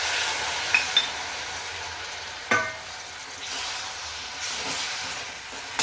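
Plain jaggery melting with a spoonful of water in a pan, stirred by spoon with a soft continuous hiss and occasional sharp scrapes and taps against the pan, quiet and close.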